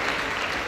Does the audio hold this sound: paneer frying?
no